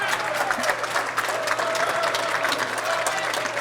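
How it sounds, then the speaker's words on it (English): Steady applause from a modest group at a pool hall's outside table during a 9-ball championship, a continuous patter of hand claps at moderate distance, holding evenly for a few seconds. "And applause from one of the outside tables"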